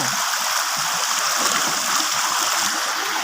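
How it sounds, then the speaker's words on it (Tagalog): A clean river flows steadily past in a rural setting, a continuous close rushing and gurgling with no pauses and no talk over it. "ito yung ilog namin dito. Malinis to."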